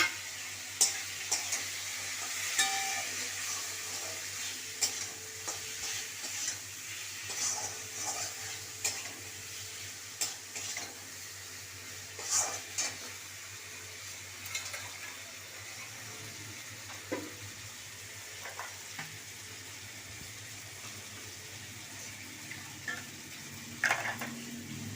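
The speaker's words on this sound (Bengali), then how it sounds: "আলুটা দিয়ে একটু নাড়বো। আলুটা দিয়ে একটু কষিয়ে নেবো ভালো করে।" Potatoes being stirred into cooked-down spice masala in a pan, a steady low sizzle beneath irregular scraping and clinking strokes of a spoon against the pan, fairly close and moderate in level, with no one talking.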